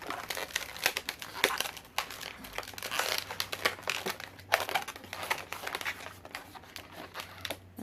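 Deflated balloon rubber being twisted and wrapped around itself, giving close, continuous rubbery crinkling and squeaking with rapid small rustles throughout, quiet and alone.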